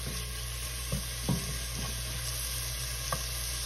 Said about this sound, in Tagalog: Halu-haluin lang. lumabas ang kanyang aroma.